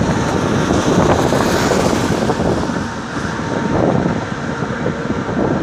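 Strong headwind roars and buffets steadily while cycling along a paved road in China, a loud, continuous rush with gusts swelling and easing and no voices.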